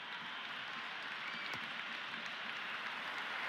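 Cricket crowd noise in the Cricket 26 video game during an India versus South Africa warm-up match: a broad, steady roar of cheering and applause from a large stadium crowd, sustained throughout without pause.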